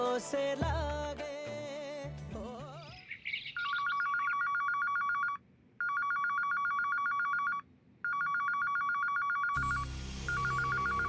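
A telephone rings in repeated electronic trills, pausing briefly between bursts, following a stretch of music and fading into other sound at the end.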